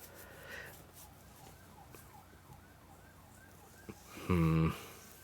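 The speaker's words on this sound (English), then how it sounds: "There's an ambulance going by somewhere not too far away." An ambulance siren passes somewhere not far off, a faint rising and falling wail repeating under a quiet background, followed by a brief loud buzzing tone near the end.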